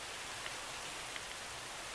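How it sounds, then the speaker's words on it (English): Steady rain falling in a modded Minecraft world, a dense even hiss of droplets with no talk over it and a few faint isolated drop ticks. "And of course it starts raining"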